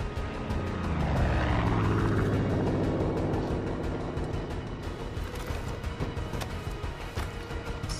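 A propeller plane in Far Cry 5 drones past, its engine rising as it nears, then sweeping downward in pitch and settling into a steady mechanical hum.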